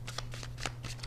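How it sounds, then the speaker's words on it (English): A deck of tarot cards being shuffled nearby, with a quick run of riffling flutters over a faint steady hum and no speech. "I'm gonna pull one more card for that."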